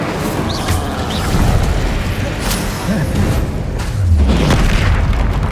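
Booming explosions from the Bombarda spell in the Hogwarts Legacy video game, with several loud bursts and crashes rumbling over dense combat effects.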